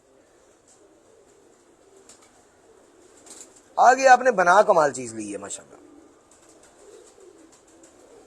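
Jugnu breed pigeons coo softly on a rooftop, faint and low in the background, while someone speaks loudly for a couple of seconds midway.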